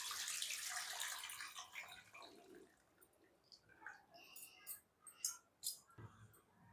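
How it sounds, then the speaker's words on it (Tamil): Tamarind water pours into a pan of okra tamarind curry (vendakkai puli kuzhambu) with a soft splashing gush at first, then quieter trickles, drips and light clinks, all close and faint. "நம்ம புளி ஊற்றிக்கலாம்."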